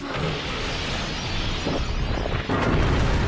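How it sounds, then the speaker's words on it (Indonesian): A dense, sustained explosion rumble from an Ultraman Orb episode fills the whole stretch with broadband roar, with a sharper burst partway through, loud and continuous with no talk on top. "Meledak."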